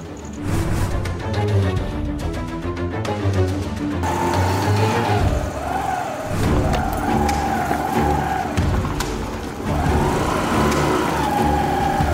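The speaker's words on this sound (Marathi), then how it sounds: "शिवा ती बघ कोरोना सरांची गाडी." A car drives close by with a mid-pitched engine, rising in revs and then holding a steady, loud tone, with no voices over it.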